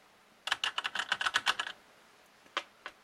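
Keys clack on a budget mechanical gaming keyboard: a quick close burst of about a dozen crisp strokes, a pause, then two isolated clicks.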